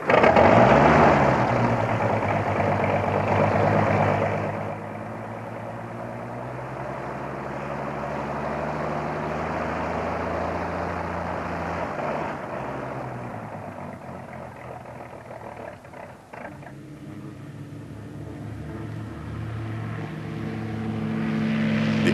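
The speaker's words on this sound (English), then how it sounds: "The mechanics are seen here starting up the engines of the new plane in preparation for its demonstration flight over" The engines of a new three-engine metal airplane, one in the nose and one under each wing, start up and run for a demonstration flight at an aerodrome: a loud, steady droning roar with shifting pitch, lasting throughout.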